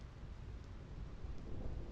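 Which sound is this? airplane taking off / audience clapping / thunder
thunder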